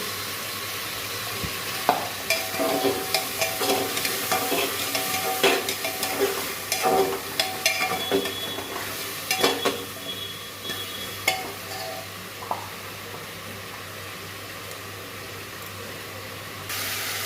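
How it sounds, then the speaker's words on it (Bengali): Taro and pumpkin pieces with salt and turmeric being stir-fried in a pan: a steady hissing sizzle with repeated scraping and clinking stirs through the middle, close and without speech, easing to a quieter sizzle at the end. "কাঁচা গন্ধটা যাওয়ার জন্য সামান্য কষে দিলাম।"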